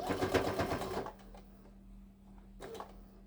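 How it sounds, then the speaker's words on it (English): A sewing machine stitches fabric for a headcovering, a fast close whirring run for about a second, then a pause and a second brief burst of stitching. "I'm going to stitch right off"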